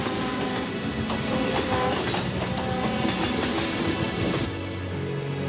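A train rolls along tracks near a road intersection, a dense steady rumble with rhythmic clacking that eases toward the end.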